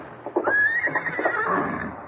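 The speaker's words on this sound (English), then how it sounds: "Someone left a horse out there." A horse neighs outside in an old-time Western radio drama, one long clear whinny with a few hoof clops, fairly close and alone without talk.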